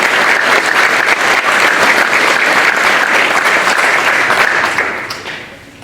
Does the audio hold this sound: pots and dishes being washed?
no